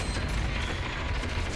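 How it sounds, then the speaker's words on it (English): Dense, continuous gunfire in the shooter game F.E.A.R. 2, a steady wash of shots and impacts at moderate, somewhat distant level with no clear pauses. "Are you done shooting?"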